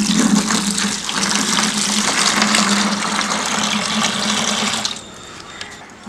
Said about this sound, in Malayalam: ഇനി നമുക്ക് ഒരു മത് വെള്ളം ഒഴിച്ചു കൊടുക്കാം